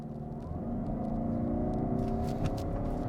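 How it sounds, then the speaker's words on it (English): A 2024 Lexus ES 300h hybrid in sport mode pulls away from a stop, a smooth rising whir and low rumble that climbs steadily in pitch, fairly quiet and close, with no talk. "Let's go ahead and hold down the brake, hit the gas a little bit"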